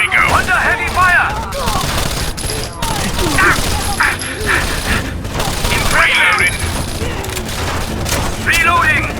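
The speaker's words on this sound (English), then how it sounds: "Under heavy fire." Gunfire from a combat level on the Nevada Dam bridge in the video game Rainbow Six Vegas: sustained bursts of automatic weapon fire and scattered shots, loud and dense, with bursts of squad radio chatter and callouts mixed in throughout.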